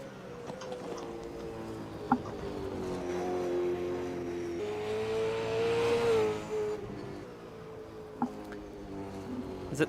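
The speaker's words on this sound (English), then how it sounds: "As at the minute on track, we've got the" Super 2 Series race cars circuit the track at Sydney, a steady loud engine drone with rising and falling pitch as cars pass and accelerate, swelling to a peak midway with brief sharp clicks.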